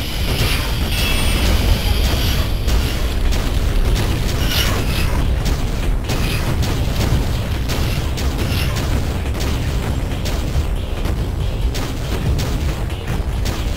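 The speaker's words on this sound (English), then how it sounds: "I will use plasma cannon to get rid of them as fast as I can." The plasma cannon fires repeatedly in the Duke Nukem 64 video game, a dense, loud barrage of bursts and booms over continuous game noise, with no talking.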